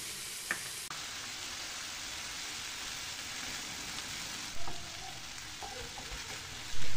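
A pan of vegetables keeps up a steady, even sizzle as tomato paste thinned with water is poured in. A couple of soft bumps of a utensil stand out briefly near the middle and at the end.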